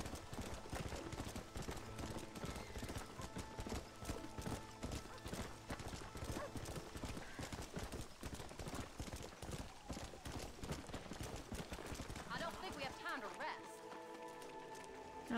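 Rapid clip-clop of horse hooves on a hard surface in Red Dead Redemption, steady and close, with a horse whinnying and game music or ambience layered underneath.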